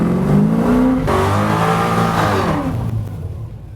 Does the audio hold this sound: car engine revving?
yes